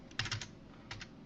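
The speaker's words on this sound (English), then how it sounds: "I'm going to go to my web browser and I'm going to type in" Quick keystrokes on a computer keyboard while an IP address is entered: a few close, crisp clicks in two short clusters, heard alone at low level.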